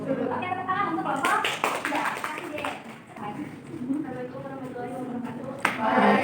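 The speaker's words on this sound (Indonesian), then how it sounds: "tepuk tangan untuk kelompok 3" A classroom of students applauds a presenting group, with scattered hand claps mixed with children's chatter and talk, rising in a brief burst and fading, then picking up again near the end.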